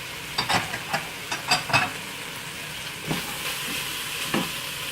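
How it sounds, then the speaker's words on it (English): Green beans tipped into a pot of simmering potatoes and broccoli outdoors, giving a series of soft stirring and clattering bursts over a steady bubbling sizzle, busier at first and then a few isolated knocks. "I'm going to add the green beans in there"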